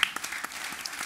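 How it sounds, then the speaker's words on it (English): A brief, light round of applause from an audience at a financial mis-selling swaps debate greets two guests. The clapping is sparse and fairly quiet and lasts only about a second. "A little round of applause for our two guests."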